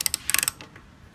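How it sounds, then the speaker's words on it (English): A wrench ratchets a bolt tight on a lawnmower during spring maintenance, making a quick, close run of about eight crisp clicks followed by faint fading ticks. "I'm going to torque it down with the wrench just ever so slightly"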